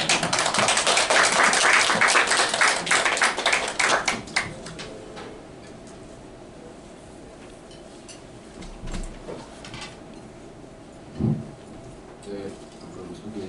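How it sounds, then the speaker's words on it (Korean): An audience at a lecture on large data centers and the power grid claps loudly in welcome for a professor, then the clapping thins into scattered taps and faint shuffling. "정현재 교수님 나오실 때 큰 박수 맞아주시기 바랍니다."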